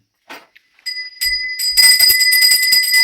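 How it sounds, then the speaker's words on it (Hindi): A temple bell is rung during prayers on the Hindu new year, with steady ringing strokes that start after a few soft taps and carry on loud and sustained. "घंटी भी बजाओ एक बार बढ़िया हाथ जोड़ के"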